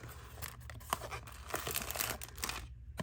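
Removable tape peels off a craft swap package, followed by paper and plastic crinkling and tearing in quick close bursts, alone without talk.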